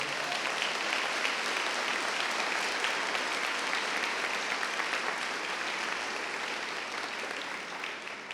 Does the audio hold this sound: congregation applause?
yes